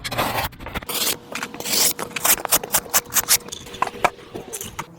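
A carbon steel Scandinavian grind knife slices through waxed cardboard for kindling in a series of close, rasping scrapes and short cutting strokes, irregular in rhythm and fairly loud, with no talking.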